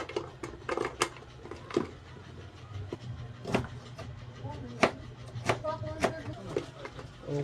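A knife slices through garlic cloves on a cutting board in a home kitchen, making a scattered series of sharp, close taps with a voice talking over them.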